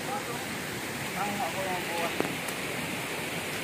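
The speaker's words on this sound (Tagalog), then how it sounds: "Sobrang lakas po kasi ng ulan ngayon." Heavy rain pours over a forest in a dense, steady hiss that fills the whole clip without letting up, broad and constant.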